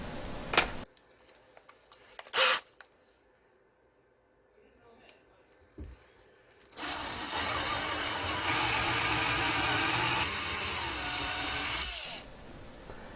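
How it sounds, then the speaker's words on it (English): After some quiet handling clicks and knocks, a power drill whirs steadily for several seconds up close, drilling a hole in an air rifle stock to fit a Picatinny rail, then stops. "make sure that the holes are lined before drilling your final hole"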